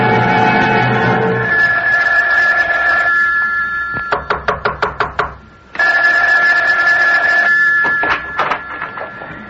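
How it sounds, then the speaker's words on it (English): A telephone in a radio drama rings with loud, close bursts of rapid bell clatter, two ring cycles separated by a brief pause, with no voices over it. "Isn't that your phone I hear ringing?"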